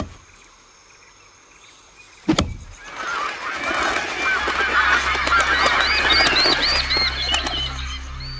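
After a sharp crack near a tree being cut, a flock of geese erupts into sustained overlapping honking with wing flapping, growing louder and filling the rest of the scene.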